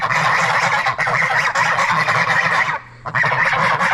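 Geese honk loudly and repeatedly at close range on a farm, a dense run of harsh overlapping calls broken by one brief pause.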